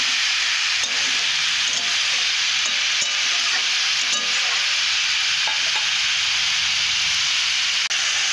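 Vegetables for a Bengali spinach dish are stir-fried in a pan, giving a loud, continuous close sizzle and hiss with occasional scraping stir strokes and no talking.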